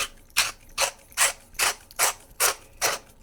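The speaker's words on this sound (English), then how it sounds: "you can just come over here and unscrew your handle" The handle of a brass-chassis Neopixel lightsaber being unscrewed, seven evenly spaced ratcheting clicks at a steady rhythm, close and clear with no talk.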